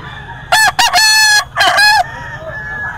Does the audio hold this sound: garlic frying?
no